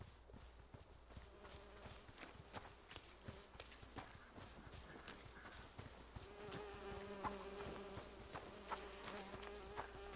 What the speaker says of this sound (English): The buzzing of flies.